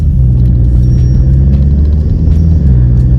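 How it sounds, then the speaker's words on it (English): Inside a 2020 Volkswagen Golf GTI on the move, a steady, loud low rumble of engine and air intake induction noise fills the cabin and holds an even drone throughout. "So you can hear that induction noise from that air intake"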